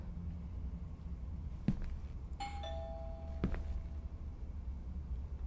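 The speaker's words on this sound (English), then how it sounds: "I should just ring the doorbell, see if he answers." Apartment doorbell in a horror video game ringing twice, a sharp electronic ding tone followed by a second chime, over a low steady ambient hum, no talking.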